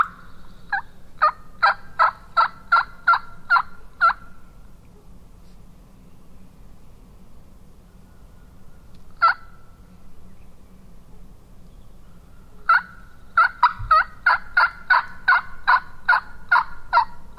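Wild turkeys on Florida public land gobbling in rapid rattling bursts, one long run at the start, a lone call mid-way and another long run near the end, clear and fairly close over a quiet hiss of insects.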